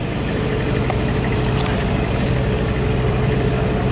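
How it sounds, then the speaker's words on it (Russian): The Koh Kood Express boat, a ferry carrying passengers and mopeds from Trat, drones steadily under way with constant engine rumble and rushing water noise, loud and unbroken throughout. "Еду на лодке Кукут Экспресс"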